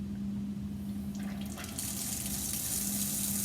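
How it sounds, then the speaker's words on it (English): Water is drawn through filter paper by vacuum suction filtration in a lab, a steady low hum joined by a rising hiss and gurgling rush as the liquid is pulled through, continuous and close. "Okay, so that's suction filtration."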